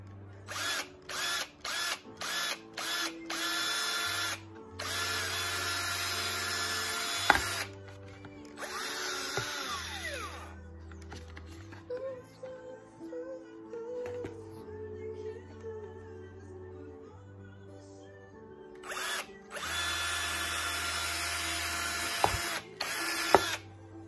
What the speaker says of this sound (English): so we'll drill a couple of holes.